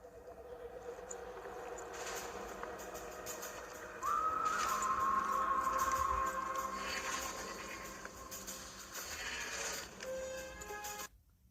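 Horse galloping in the Warframe game, with rhythmic hoofbeats under a game score and a brief whinny-like tone, fairly steady and close throughout.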